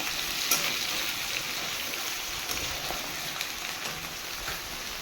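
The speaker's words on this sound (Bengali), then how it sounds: "আমি তবু একটু তেলে দিয়ে ভেজে নিলাম" Paneer frying in a little oil gives a steady, close sizzle: soft continuous crackling hiss with a few faint pops and no voices.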